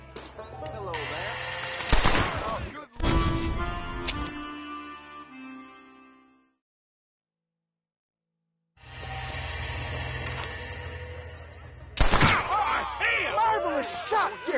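Gunfire in the Western video game Red Dead Redemption: loud bursts of shots with rapid cracks around two seconds, then a silent gap, followed by renewed shooting and strong bursts near twelve seconds amid game sounds and voices.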